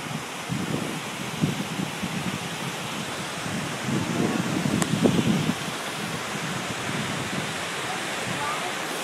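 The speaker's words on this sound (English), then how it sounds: "I'm going to show you this waterfall." Waterfall pouring steadily, a dense, even rushing roar that holds at a constant level throughout, with a faint low murmur mixed into the wash of water.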